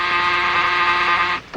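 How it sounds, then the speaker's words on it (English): A steady, loud electric buzzer drones continuously for over a second before cutting off abruptly. "Somebody's got to keep an ear on that buzzer."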